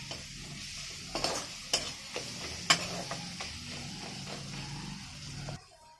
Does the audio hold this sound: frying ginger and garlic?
yes